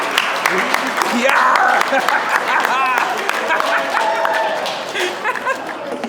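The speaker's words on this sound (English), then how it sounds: "Yeah, let's give him a round of applause," Wedding guests clap as the best man comes up, steady applause mixed with chatter and talk across the room, moderately loud and continuous.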